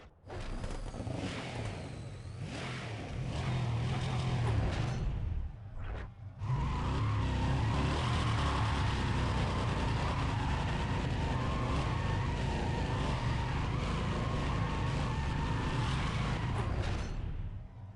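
A race car in the video game Need For Speed ProStreet roars steadily at high revs, with a brief drop around a gear shift before the engine climbs again, loud and continuous with faint tire noise.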